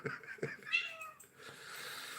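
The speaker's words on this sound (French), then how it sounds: "ça, c'est un chat" A cat meows nearby, two short calls followed by a longer drawn-out meow, then quiet room noise.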